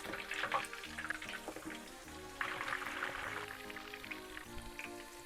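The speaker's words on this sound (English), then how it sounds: "So it's also been frying for about 5 minutes or so." Kakiage tempura of mixed vegetables and seafood frying in hot oil, a steady soft crackle and hiss close by, with no talking.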